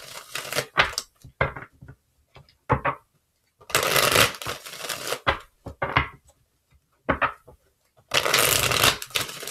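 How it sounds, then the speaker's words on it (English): Tarot cards shuffled in repeated bursts, crisp riffling and snapping of the deck close up, with pauses between the three shuffles and brief quiet handling sounds. "Let's get three shuffles,"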